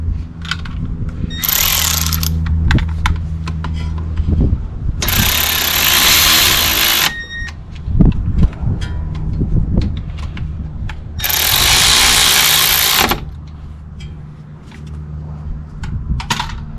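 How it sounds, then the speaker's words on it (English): A power tool tightens brake caliper bolts on a 2005 Toyota Camry XLE during a front rotor and pad job, with two long loud buzzing bursts and clicking, clanking tool noises between them. "Tightening up the bolts."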